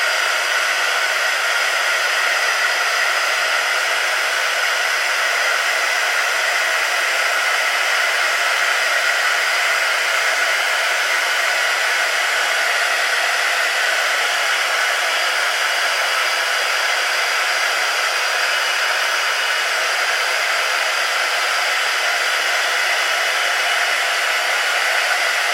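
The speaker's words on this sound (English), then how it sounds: "we're actually going to bring in our heat tool and warm this up a little bit" A heat tool blows hot air to warm craft material for a handmade gift wallet card, a loud, constant, close-up rushing whoosh that holds unchanged throughout with no talk.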